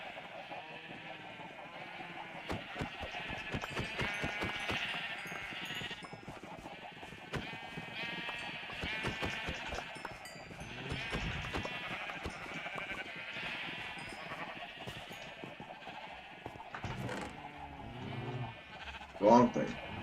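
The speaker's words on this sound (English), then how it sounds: "Let's kill this sheep." Sheep bleating in a video game, repeated short cries over busy game music and sound effects, with a louder bleat near the end.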